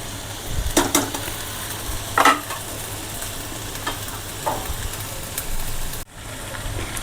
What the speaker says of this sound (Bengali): সবজিটা দিয়ে একটু নাড়াচাড়া করে নিয়েছি